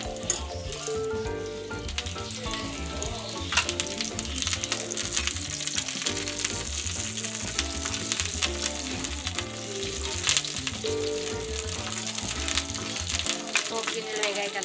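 Tempering seeds splutter and fry in hot oil, a dense crackling sizzle with scattered sharp pops throughout, close and continuous, and faint talk is heard now and then.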